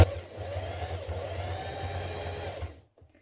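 A domestic sewing machine top-stitches a knit neckband in one continuous, steady whirring run. The motor hums close and evenly, then stops abruptly near the end, leaving quiet.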